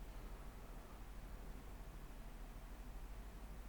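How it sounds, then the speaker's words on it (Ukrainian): An air conditioner running in the room is picked up by a GamePro HS 1240 headset microphone as a faint, steady, even hiss with a low hum underneath, constant throughout with no talking. "причому одразу із шумом кондиціонера на фоні"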